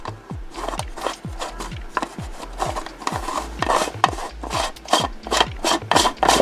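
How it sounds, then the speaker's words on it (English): Plastic parts of a collapsible LED camping lantern are twisted and screwed together by hand, making a run of repeated ratcheting scrapes and clicks, close and fairly loud, with no voices. "Like it's screwing on a peanut butter jar."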